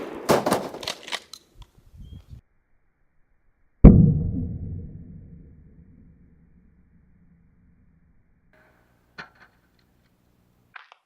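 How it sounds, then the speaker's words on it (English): A 12 gauge shotgun loaded with Winchester birdshot fires once at a TV from about 12 yards, a single sharp, loud blast that rolls off in a long rumbling echo, with faint handling clicks before and after. "first up it's going to be the birdshot, and I'm going to be firing from roughly 12 yards away."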